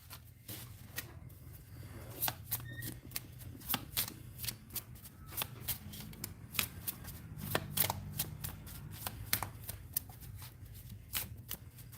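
Cards being shuffled for a tarot-style reading, a run of quick crisp riffles and soft slaps repeating irregularly, close and fairly quiet with no talking.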